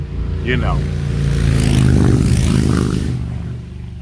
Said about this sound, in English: those motorcycles were loud